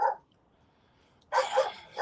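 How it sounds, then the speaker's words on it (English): A dog barks close by, one short sharp bark, then a pause, then a quick pair of louder barks, with no talk over it. "That's my dog."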